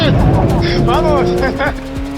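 A DTM race car brakes hard on track, its loud engine note sweeping down through rapid downshifts with rising and falling whines, close and dominant throughout.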